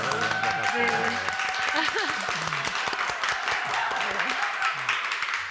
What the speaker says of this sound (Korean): 박수를 한번 우리 환영의 박수를